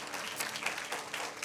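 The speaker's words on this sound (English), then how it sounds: "let's give the Lord one more hand clap of praise" Church congregation clapping hands in praise during a worship service, a steady, moderately loud wash of applause filling the whole clip with no speech.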